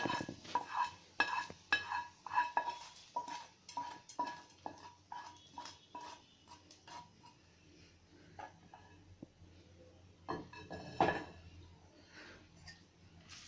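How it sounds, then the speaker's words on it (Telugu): Curd rice tempering is tipped from a pan onto cooked rice and stirred, giving a string of clinking metal-on-pan taps and scrapes, fairly close and irregular, followed by a pause and a few more clatters. "మనం ముందుగానే రెడీ చేసి పెట్టుకున్న రైస్లోకి వేసేసుకోవాలి"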